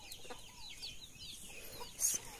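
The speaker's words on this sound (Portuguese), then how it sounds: "Eita, que a galinha não deixa a outra quieta." Hens cluck and squabble on a farm, one chicken pestering another near some chicks, with soft scattered clucks and chirps at moderate distance and a brief louder squawk near the end.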